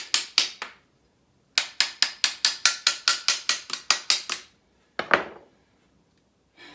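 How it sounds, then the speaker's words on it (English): A wooden hammer tapping the fittings of a traditional Japanese sword loose, a quick series of sharp, close, evenly paced knocks in bursts with brief pauses, then a couple of heavier final strikes. "This is why you use a wooden hammer."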